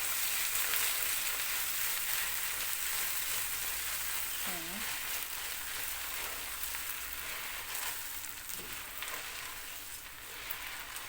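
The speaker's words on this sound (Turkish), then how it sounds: "Salçayla da biraz kavuracağım. Salçanın da kavrulması lazım ki çiğ kokmasın salça." Egg noodles fry in butter with tomato paste, giving a continuous crackling sizzle with soft stirring scrapes throughout.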